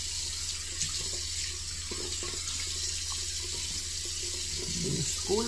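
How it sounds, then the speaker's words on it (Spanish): Water runs steadily from a bathroom sink tap while a face scrub is rinsed off, a continuous close splashing rush with small hand splashes throughout. "Estoy haciendo un reguero de agua aquí."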